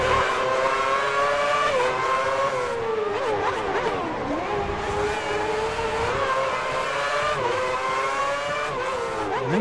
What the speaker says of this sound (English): He made the move on Kovalainen and then he just put the power down and swept around the outside